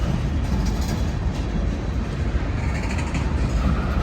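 Freight train with open-top flat cars and tank cars rumbling loudly and continuously as it emerges from a tunnel, a dense roar of wheels and cars with no voices.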